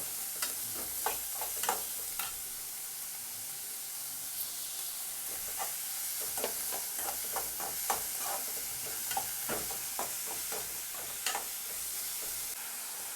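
Onions sauté over high heat for prawn masala, a hissing sizzle underlying repeated scraping strokes of a spatula stirring the pan, close up and steady, with no voices.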